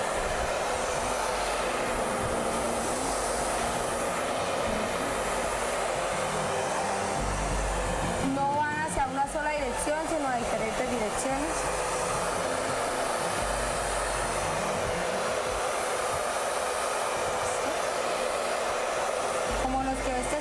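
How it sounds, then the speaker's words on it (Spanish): Hair dryer blowing continuously at close range to push wet paint across a surface in a smoked-effect painting technique, a loud steady whoosh with warbling shifts in tone partway through. "para esta técnica vamos a necesitar un secador para poder mover la pintura"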